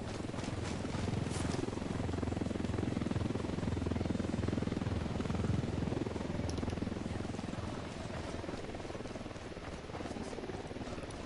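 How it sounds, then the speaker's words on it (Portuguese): A helicopter in the Ghost Recon Wildlands video game drones steadily with a dense rotor and engine roar, loud and continuous throughout, with no speech over it. "Helicóptero."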